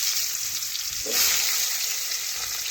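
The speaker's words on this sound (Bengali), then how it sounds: "এখন ওই তেলে দেখুন আমি সরু সরু করে আলু কেটে রেখেছিলাম, আলুগুলো এখন ভেজে নেব।" Thin-cut potatoes dropped into hot oil give a steady, close frying sizzle that surges briefly as they go in, then settles into an even crackling hiss with no talking.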